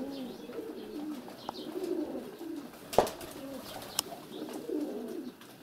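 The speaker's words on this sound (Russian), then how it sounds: "сидят там, что-то воркуют" Pigeons coo in soft, repeated throaty phrases nearby in a village dovecote, with a couple of sharp knocks and light rustling in between.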